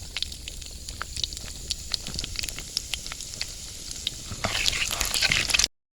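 Spices such as fenugreek and fennel fry in hot groundnut oil in a pan, giving a steady crackling sizzle with sharp pops throughout, growing denser and louder toward the end before stopping abruptly.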